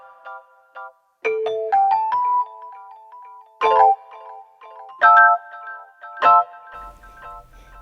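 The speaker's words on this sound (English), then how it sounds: "Try jazz hall, I like this too." Mellotron M4000D keyboard through a jazz hall reverb, chime-like plucked notes in sparse melodic phrases with moderate ringing decay, playing alone with pauses and a faint low hum near the end.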